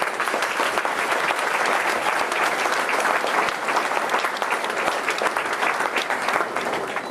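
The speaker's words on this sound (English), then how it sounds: "can we just give an applause for what God's done by raising up this army here" A banquet audience at a pro-life center event in Ste. Genevieve, Missouri, applauding together, with a dense, steady roar of clapping that holds loud and even throughout.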